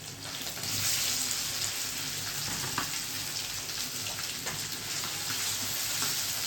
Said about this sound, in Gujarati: હવે આ બટેકા વઘારું છું.